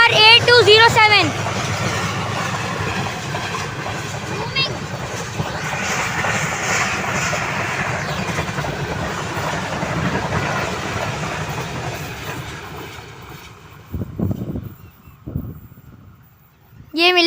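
A train passes an abandoned station at Gharo in Sindh, a loud rumbling roar of engine and wagons that slowly fades away, with people talking nearby.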